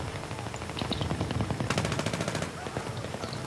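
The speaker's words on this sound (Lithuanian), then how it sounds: "kas čia šaudo į mane pastoviai" Rapid automatic gunfire rattles in the video game Battlefield 3, bursts of closely spaced shots building to a dense volley in the middle before easing off.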